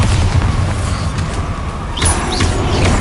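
Bombarda spell blast in Hogwarts Legacy, a loud booming explosion over dense, continuous game noise, with a fresh burst about two-thirds of the way through.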